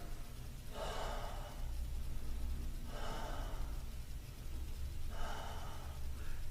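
Three slow, deep breaths during a yoga-style stretching and breathing exercise, each breath a soft airy inhale and exhale heard close, evenly spaced about two seconds apart.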